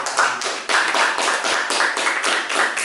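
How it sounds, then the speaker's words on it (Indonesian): An audience claps together at a podcast session, a fairly close, lively burst of many hands with sharp individual slaps in an uneven rhythm, with a brief dip partway through before it picks up again. "Tepuk tangan dulu dari kita semua"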